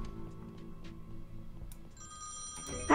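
An old-fashioned telephone bell rings in the point-and-click adventure game Thimbleweed Park, a faint, steady trilling ring heard alone under quiet game ambience, with a louder sound at the very end.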